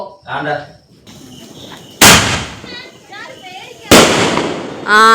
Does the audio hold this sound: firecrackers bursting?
yes